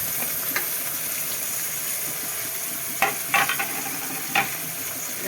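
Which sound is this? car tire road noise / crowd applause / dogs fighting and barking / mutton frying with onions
mutton frying with onions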